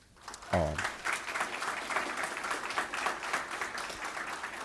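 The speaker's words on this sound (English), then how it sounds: "give them a big round of applause for this organization of the first conference on global indigenous studies" Audience at a conference on global indigenous studies bursts into sustained applause, a dense steady wash of many hands clapping after a brief voice at the start.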